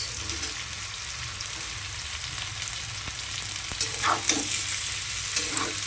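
Onion goes into potatoes frying with turmeric, a steady close sizzle of oil with scattered spatula scrapes and taps growing busier toward the end, no voices.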